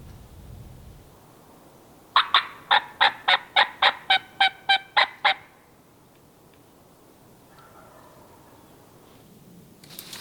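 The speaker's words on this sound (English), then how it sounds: "I think I'm shocked that we got one to gobble." A wild turkey gobbles once in the Virginia woods, a burst of about a dozen rapid, evenly spaced notes lasting around three seconds, clear against quiet outdoor background.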